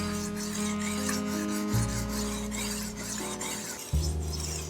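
A kitchen knife, a chef's knife or nakiri, is sharpened on a diamond stone with steady back-and-forth gritty rasping strokes, close and continuous, with no talking.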